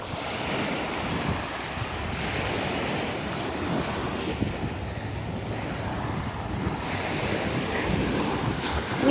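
Ocean surf and wind on an overcast dog beach: continuous rolling wash of waves with gusty buffeting against the microphone, swelling in places, steady and fairly close with no talking.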